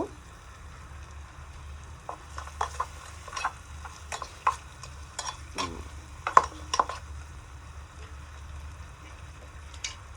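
Spices sizzle and crackle in a hot pan, with sharp pops and the scrape of stirring over a low steady hiss.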